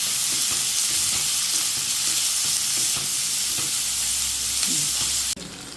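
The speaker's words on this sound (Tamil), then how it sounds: "இப்போ வெங்காயம் நல்லா வதங்கணும்." Four onions sizzle and fry steadily in a pan for a fried prawn gravy, with a dense continuous crackle and occasional stirring scrapes, close and loud, cutting off abruptly near the end.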